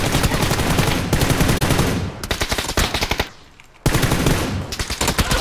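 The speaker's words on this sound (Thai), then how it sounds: "มันยิงเล่นกันนี่หว่า" Gunfire in the PUBG video game: loud, rapid automatic bursts repeating in quick succession, broken by a short quiet gap before firing resumes.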